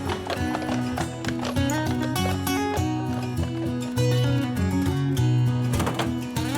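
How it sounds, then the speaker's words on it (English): Brewery dray horses pulling a delivery cart along a country road in Wiltshire, their hooves clip-clopping in a steady rhythm, largely masked by loud music playing over them. "they reintroduced the horses back in 1974. We've got 2 drays out every day delivering."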